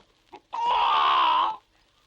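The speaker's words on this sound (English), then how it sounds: "on the gate sat a rooster, crowing with all his might" A rooster on a farmyard gate crows once with all his might, a single loud, sustained call of about a second, standing alone between brief quiet gaps.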